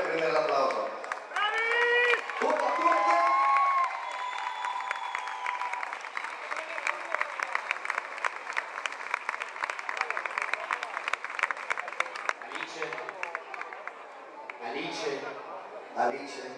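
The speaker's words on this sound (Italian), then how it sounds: "Dai, andatevi a prendere l'applauso." Audience applause and cheering at a band concert: sustained dense clapping with shouts and whistles rising over the crowd, fading toward the end, while voices talk over it at the start and close.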